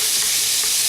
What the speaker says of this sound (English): brown this beef